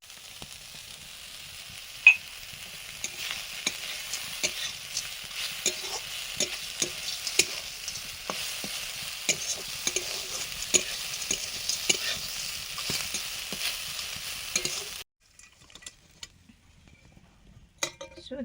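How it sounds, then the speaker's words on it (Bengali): Drumstick flowers and crushed fried bori sizzle in a hot pan while being stirred, with a steady frying hiss and frequent scraping clicks from the spatula. The sizzle cuts off near the end, leaving only faint clinks. "সজনে ফুলটা ভাজা হয়ে গেছে, এবার ভেজে গুঁড়ো করে রাখা বড়িগুলো দিয়ে দেবো।"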